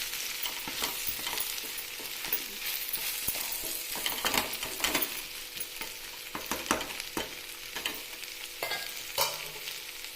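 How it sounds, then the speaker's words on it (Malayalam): Potatoes cooking in a covered pan get stirred now and then, with quiet sizzling under irregular scraping and clinking of the spoon against the pan, fairly close and low in level. "ഇടയ്ക്കിടയ്ക്ക് ഇങ്ങനെ ഇളക്കി കൊടുത്തുകൊണ്ടിരിക്കണം"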